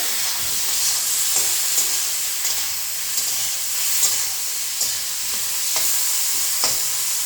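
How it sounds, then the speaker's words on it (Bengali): Raw green banana pieces frying in oil with cumin and chopped onion, a continuous close sizzle broken by regular scrapes and taps of a spatula stirring them around the pan. "দিয়ে দিব কাঁচাকলাগুলো, ভালো করে ভেজে নিব।"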